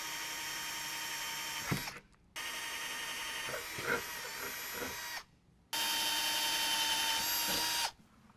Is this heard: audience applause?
no